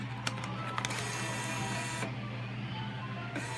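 Bill acceptor on a 42-inch Pinnacle crane claw arcade machine pulling in a dollar bill, a steady whirring motor hum with a few faint clicks, close and fairly quiet.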